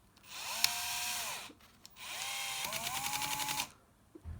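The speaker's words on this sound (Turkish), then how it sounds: "Makinenin tork gücü vidanın girmesine yeterli gelmediğinde mandiren otomatik olarak kendini boşa alıyor" Cordless screwdriver set to low torque driving a screw, two whirring motor bursts, the second ending in a rapid ratcheting clatter as the clutch slips, close and clear without talk.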